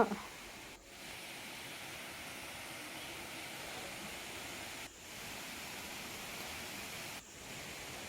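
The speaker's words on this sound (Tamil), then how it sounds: "அது ஃபால்ஸ் கிட்டே வந்துட்டோம்" Steady broadband rush of a waterfall at Thirumoorthy hills near the Amanalingeswarar temple in Tiruppur district, a continuous even roar heard from a short distance, unbroken except for a few brief dips.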